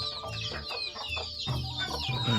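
Hens and roughly fifteen-day-old chicks in a rear enclosure cluck and peep together, with overlapping chirps and low clucks close by and steady throughout.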